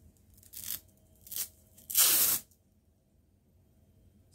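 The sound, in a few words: fabric strip being torn in two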